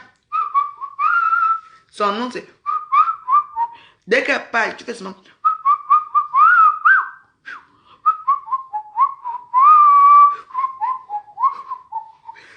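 A person whistles a series of short melodic notes and slides, alone in a quiet room, broken twice by bursts of speech.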